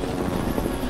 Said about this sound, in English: Max has flown in the helicopter quite a few times.